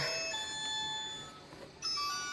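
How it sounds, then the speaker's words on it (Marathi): An electronic ringtone plays a bright, repeating melody of clear tones, steady and moderately loud with no one talking. "कोणाचा फोन वाजतोय"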